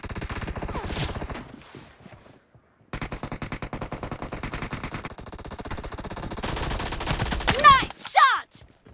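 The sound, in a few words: gunfire in the video game PUBG Mobile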